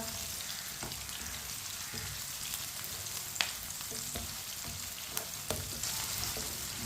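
Tomatoes for a potato curry cook in a pan with a steady, close sizzle and fry, and a spoon gives occasional clinks and scrapes against the pan as they are stirred.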